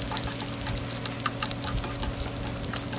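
Spinach and queso fresco patties fry in a pan, giving a steady close sizzle with crackling pops and faint stirring or shifting sounds, and no voices.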